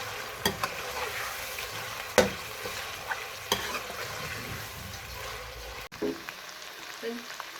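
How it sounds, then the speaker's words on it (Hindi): Chicken pieces frying with ginger-garlic paste, being stirred in a pan, with a steady sizzle broken by several sharp scraping clacks of the spoon; close and moderately loud, no talking. "इसको अच्छे तरीके से चिकन को भून लेंगे हम अंटिल के लाइट ब्राउन हो जाए"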